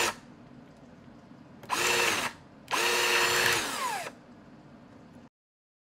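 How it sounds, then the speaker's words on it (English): A power drill bores a hole in a Casio SK-1 toy synth in two bursts, the second longer, spinning up and winding down with a rising and falling whine, separated by quiet. "I think I can use a bigger drill for that"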